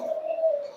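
A pigeon in a loft gives a single soft, sustained coo, close and clear against a quiet background.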